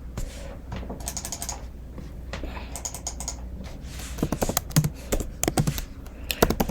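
Typing on a computer keyboard, with quick, close key clicks in uneven bursts and short pauses, growing sharper and louder toward the end.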